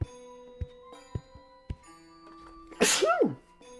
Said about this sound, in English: Oh god, I have to sneeze. I feel it coming.